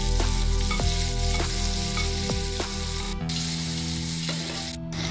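Onions frying in ghee for Kashmiri pulao: a dense, steady sizzle up close with a few scraping stirs, which thins to a quieter, more even frying hiss partway through, with no voices.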